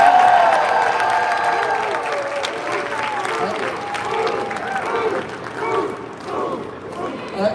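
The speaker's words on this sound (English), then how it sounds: "I love that you brought your own cheering section." An audience at an anniversary celebration applauds loudly and steadily, with a few cheers rising over the clapping. The applause is strongest at the start and slowly thins out while continuing throughout.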